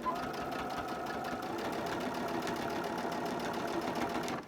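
A sewing machine stitching two very soft fabrics runs steadily at a fast, even rhythm for the whole stretch, close and fairly loud, then stops abruptly at the end.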